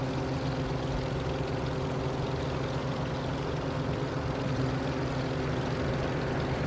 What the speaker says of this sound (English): Those engines sound really nice.